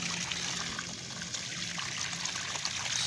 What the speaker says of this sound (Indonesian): Ini pompa sumur dangkal. Mantep banget deh. Airnya satu in full.